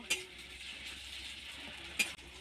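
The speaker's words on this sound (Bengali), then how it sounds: "ওই তেলের মধ্যে আমি আগে থেকে একটা বড় সাইজের পেঁয়াজকে আধ বাটা করে রেখেছিলাম, ওটা দিয়ে দেব। দিয়ে হালকা নেড়ে নেব।" Half-ground onion paste sizzles steadily in hot oil, with two sharp clinks of a spoon against the pan as it is stirred, fairly quiet and close, with no voices.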